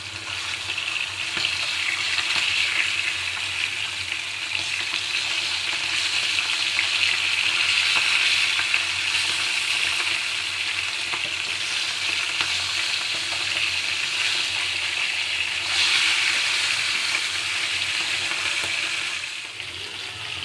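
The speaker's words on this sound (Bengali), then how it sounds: "এবার মাছগুলো একে একে তেলে ছেড়ে দেব।" Rohu fish pieces frying in hot salted oil in a frying pan, a loud steady hiss and sizzle that runs continuously and evenly from start to finish with no talk.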